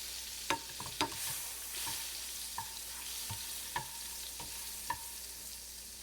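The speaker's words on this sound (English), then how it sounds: "and you fry it on the frying pan." Butter frying in a frying pan, a quiet steady sizzle with occasional soft clicks and taps, no voices.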